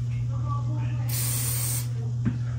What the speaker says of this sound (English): So I just spray it with the Doxum NXT.